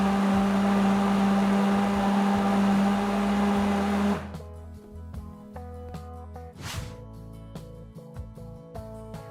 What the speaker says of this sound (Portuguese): a gente vai bater tudo no liquidificador